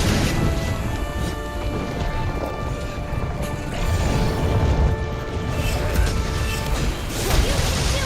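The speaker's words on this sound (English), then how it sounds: "if it punches the ground, it can do a big energy explosion" Monster in Monster Hunter World punching the ground and setting off a big energy explosion, a dense roaring crash of rumbling debris and crackling noise that swells and surges over several seconds, loud and dominant with speech faintly mixed in.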